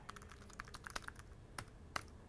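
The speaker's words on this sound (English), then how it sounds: "as you're typing, it is very fast and very responsive." Quick, light typing on a Logitech Bluetooth illuminated keyboard, soft irregular key clicks in a fast run, close and fairly quiet with no voice over them.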